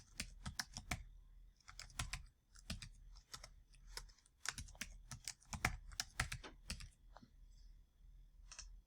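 Typing on a computer keyboard while entering a new password during account recovery, with steady bursts of quiet key clicks and short pauses, close and alone with no talk.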